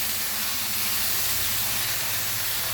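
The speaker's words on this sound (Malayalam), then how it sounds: "ഇനി നമുക്കിത് നന്നായിട്ട് ഇളക്കി കൊടുക്കാം" Fish roast stirred in a hot pan gives off a loud, continuous hiss of steam and sizzle that covers the whole stretch without a break; no voices.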